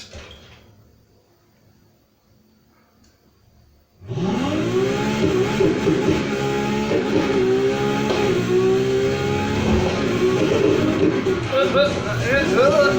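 After a few quiet seconds, a 2013 Ferrari LaFerrari engine in the video game Need for Speed Heat roars up loudly and keeps revving, pitch rising and falling through gear changes, continuous and close.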